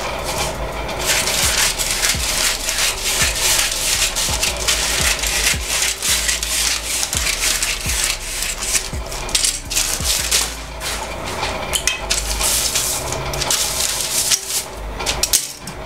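Scissors cut through fabric for a wrap skirt pattern with repeated close crisp snips and rustling fabric, steady and uneven over the whole stretch.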